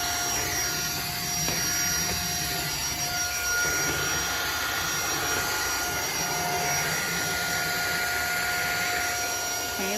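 An XREXS handheld vacuum runs on its lowest suction setting, giving a steady whirring hum that stays continuous for the whole stretch with no talking.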